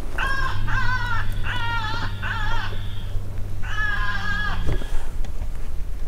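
A predator call imitating a young jackrabbit in distress, played at medium volume, wails out in five repeated, wavering cries over a steady low drone, loud and close, with a sharp knock near the end.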